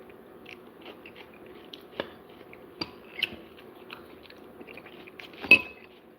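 Someone eating a bowl of chili with onions, with faint, close chewing and a few soft crunches and utensil clicks, sparse and quiet, with one sharper click near the end.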